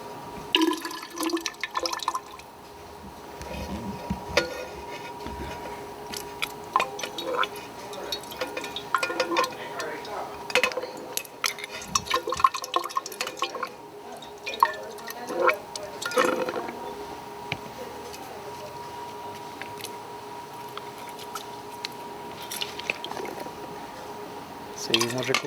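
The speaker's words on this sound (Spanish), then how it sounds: "podemos usar más agua para limpiar todo el recipiente de la batidora" Water splashes and trickles into a blender container being rinsed out for a lab soil test, with intermittent clinks and drips, while a person talks over it.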